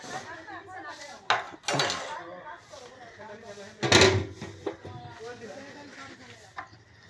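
Charcoal being placed on a cooking pot lid over a large batch of potato and meat curry, with a few metallic clanks and scraping clinks under someone talking.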